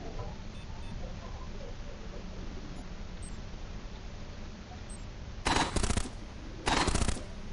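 Two short bursts of rapid automatic gunfire from the robot strategy game Cogmind, each about half a second long, cut through a steady hissing noise bed. No voices are heard.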